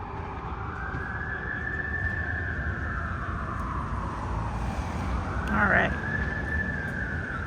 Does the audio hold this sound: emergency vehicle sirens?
yes